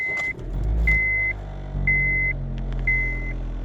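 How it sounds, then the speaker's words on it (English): Low vibrating drone from the engine area of a 2010 Honda Civic EX with suspected worn upper torque and right-side engine mounts, a steady near rumble with periodic electronic beeps repeating about once a second. "you hear that? It sound like vibrating noise."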